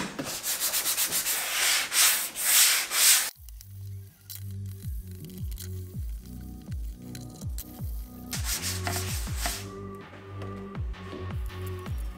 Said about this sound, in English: I just got done sanding this thing